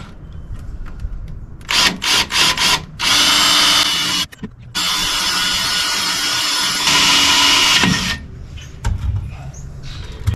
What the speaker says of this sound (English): I'm going to use a drill bit to drill a pilot hole through the screw holes